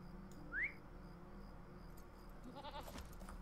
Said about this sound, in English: Or we can have the goat.